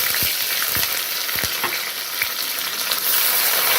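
Chopped onions frying in a pan with bay leaves and dried red chillies, a steady close sizzle broken by several sharp spoon scrapes and knocks against the pan.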